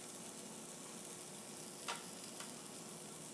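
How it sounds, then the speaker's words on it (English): Carrots and onions sauteing in a little olive oil give a steady, faint sizzle throughout, with a couple of brief louder scrapes or crackles near the middle. "some carrots and onions that I've been sauteing in just a little bit of olive oil"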